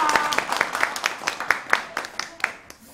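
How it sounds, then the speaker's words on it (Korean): Scattered clapping from a small audience at a Wido Ttibaennori folk ritual gathering, a few sparse claps in an uneven rhythm, fairly close and moderately loud, fading out after about two and a half seconds. "박수를 한번 드리겠습니다."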